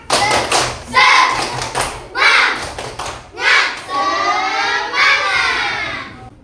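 A group of students performs a rhythmic spirit clap in a classroom, loud bursts of patterned claps and thumps alternating with shouted chanting voices.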